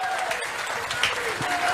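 A crowd at an outdoor public rally in Gandhi Nagar market claps in a steady, dense wash, with a faint voice and stray tonal sounds mixed in the background.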